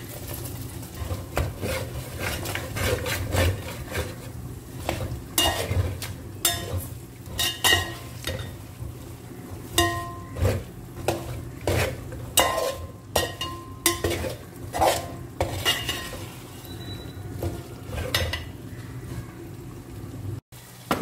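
Beef being stirred and fried in a pan for beef pickle, with steady sizzling under repeated sharp scraping and clinking strokes of a utensil against the pan, close and without talk.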